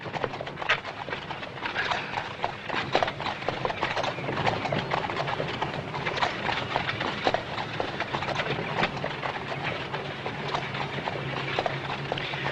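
Horse hooves clop along in a steady, brisk trot, close and continuous, with faint outdoor background and a few birds.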